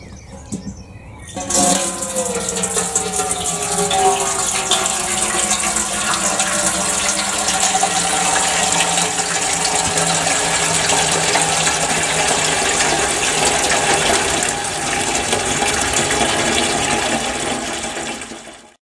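Water poured steadily onto potted herb plants out on a deck, a continuous splashing gush that starts after a brief quiet moment and runs evenly throughout, with faint birdsong in the background.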